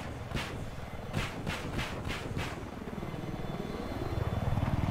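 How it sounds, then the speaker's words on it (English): Steady helicopter rotor thrum from the video game Aces High, with a low engine drone that grows slightly louder, plus a few sharp taps early on; no voices. "I got eyes on an enemy helicopter."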